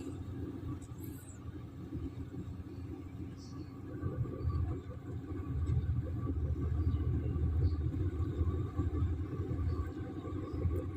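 The port engine of a landing craft tank rumbles steadily as it runs while docking in Pasacao port, with a low continuous drone that swells louder midway through. A faint voice is heard in the background.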